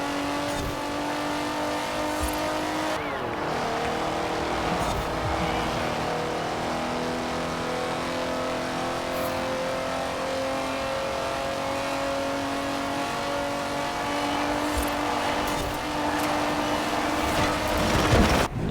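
A BMW 850CSI in the racing game Forza Horizon 4 accelerates hard, its engine droning loud and steady through the gears, with a brief shift dip early on and a rising surge at the end.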